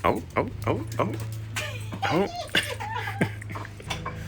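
A dog whimpers and lets out short, high yips repeatedly up close, mixed with a person's voice talking over it.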